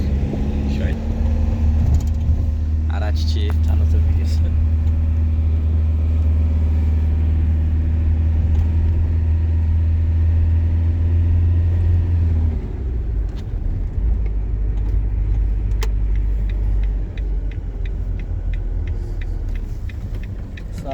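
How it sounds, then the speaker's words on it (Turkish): An Iveco truck with a 3.0-litre, 170-horsepower engine, carrying a motorcycle, drives through city streets with a steady loud low rumble that shifts partway through, and someone talks over it. "Iveco kamyonumuzla motorumuzu taşıyoruz dostlarım."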